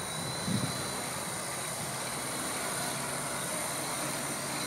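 A quadcopter with 29-inch propellers hums through its first flight in fully manual mode, a steady, fairly faint droning whir with fixed tonal lines, alone and unbroken for the whole stretch.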